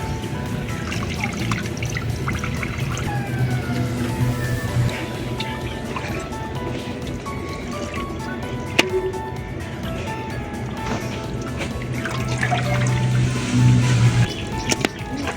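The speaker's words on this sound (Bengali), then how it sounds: "খুব ভালোভাবে 2-3 পানি দিয়ে ধুয়ে নিচ্ছি।" Duck meat is rinsed in water for a curry, with a continuous close sloshing, trickling and pouring of water that runs unbroken and gets slightly louder near the end.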